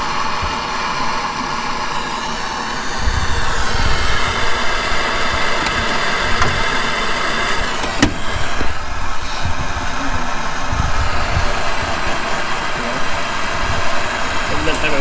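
An air compressor runs steadily throughout, a continuous motor drone with a mechanical vibration that holds at a constant level, with voices talking over it.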